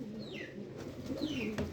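Pigeons coo faintly in a loft, with soft low repeated calls over a quiet background and a couple of thin sweeping chirps.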